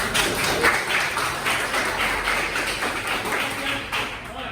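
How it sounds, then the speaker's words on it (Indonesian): Classroom applause for a student's correct answer, many hands clapping in a steady patter for several seconds, moderately loud, with some voices mixed in. "Ya, betul saya beri aplaus pada Mas Galih"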